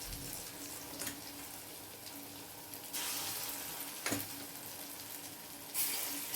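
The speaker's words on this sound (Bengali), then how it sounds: "এই ছোট ছোট করে আমি বড়া ভেজে নিচ্ছি।" Small pea-lentil fritters (matar dal bora) fry in a wok of mixed white and mustard oil, a steady close sizzle that swells in louder bursts as more batter drops in, with no talking.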